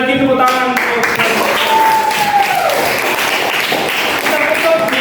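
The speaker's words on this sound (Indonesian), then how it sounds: "Sekali lagi tepuk tangan." Children applaud together at the close of a school Islamic religious education class, a steady clatter of claps running throughout with a voice speaking over part of it.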